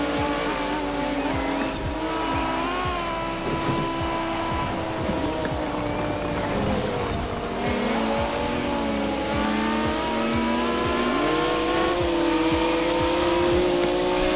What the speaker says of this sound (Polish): ale ta M4 jest bardzo nieproporcjonalnie głośna w stosunku do innych samochodów BMW nawet